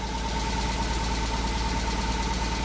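Mitsubishi Lancer Evolution IV's 1.8 liter engine idles steadily and close, a constant mechanical hum with a faint ticking rhythm and no break.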